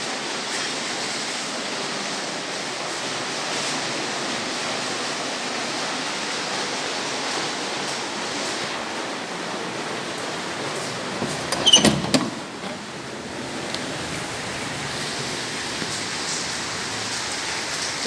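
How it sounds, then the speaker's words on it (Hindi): Heavy rain pours steadily outdoors as a dense, continuous hiss, with one brief louder clatter near the middle and no voices. "मैं आपको बारिश की आवाज़ भी सुनाऊँगी"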